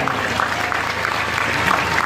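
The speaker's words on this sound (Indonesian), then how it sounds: "Tepuk tangan untuk santri-santri maya." Steady crowd applause fills the space at an outdoor National Santri Day gathering, a continuous dense patter of many hands clapping at moderate level throughout.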